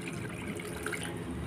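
Collected rainwater pours from a container onto a potted plant, a steady, close trickle and splash of water lasting a moment, with no voices.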